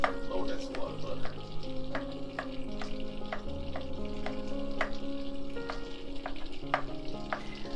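Butter bubbling and melting in a hot iron skillet, a steady close sizzle and crackle with soft regular ticks and occasional stirring, no voices.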